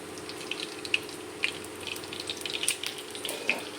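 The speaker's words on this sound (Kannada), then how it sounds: "ಇವಾಗ ನಾನು ಇದರಲ್ಲಿ ಎಣ್ಣೆ ಹಾಕ್ಕೊಳ್ತಾ ಇದ್ದೀನಿ" Oil pours into a pan to prepare for shallow frying leafy greens fritters, heard as a soft, faint liquid trickle with scattered light ticks and pops and no talking.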